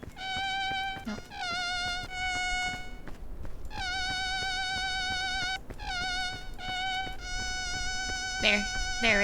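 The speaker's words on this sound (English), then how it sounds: "That's mosquito right there." Insect buzzing in the video game PEAK: a steady, harmonic mosquito whine that drones in long stretches with brief gaps, loud and close, with no talk over it.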